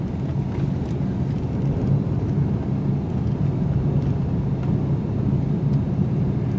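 2019 Ford Edge ST with the 2.7L EcoBoost driving in sport mode, a steady loud low engine and road rumble heard from inside the cabin.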